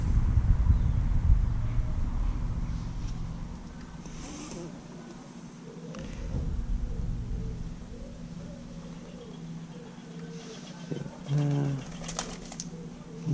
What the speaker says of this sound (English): Sounds like a pigeon has landed in the nearby tree.